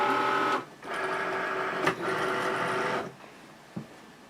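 Cricut Maker cutting machine loading its mat, a motorized whirring hum from the rollers in two runs broken by a short pause and clicks, then stopping with a final soft mechanical click, heard close up.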